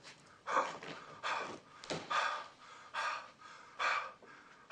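A man imitating an obscene phone caller with exaggerated heavy breathing, about seven rhythmic raspy pants in a row, close and fairly quiet, with no words.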